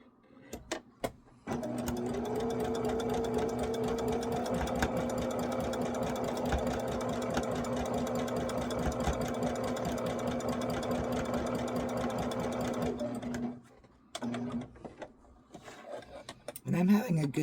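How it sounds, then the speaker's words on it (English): A sewing machine stitches quilt border pieces onto a block for a St Patrick's Day shamrock table runner, running steadily and loudly for about twelve seconds after a few handling clicks, then stopping with brief fabric rustles afterward. "our next step is to sew our border pieces on this block."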